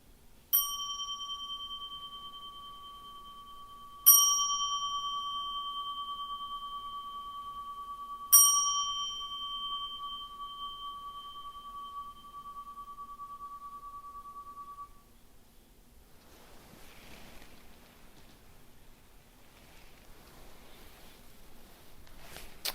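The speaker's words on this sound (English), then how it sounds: "3 bells" A ringing bell is struck three times, about four seconds apart, during a Zen dharma talk. Each stroke is clear and bright with a long, slowly fading hum, followed by quiet room tone.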